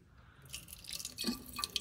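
Coolant poured into the cooling system of a 1981 Pierre Cardin Evolution 1 car during a top-off, a quiet liquid trickle with a few drips and splashes near the end.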